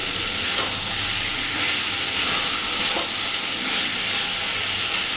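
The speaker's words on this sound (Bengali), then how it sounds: "খুব বেশিক্ষণ পোস্ত দিয়ে ভাজবো না।" Ridge gourd and potato fry with poppy seed paste in a pan, a continuous loud sizzling hiss with faint stirring scrapes scattered through it and no voices.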